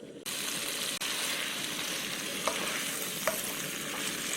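Soaked namul vegetables, including sweet dried pumpkin strips, sizzle steadily in a hot pan, a constant broadband frying hiss with a couple of faint clinks.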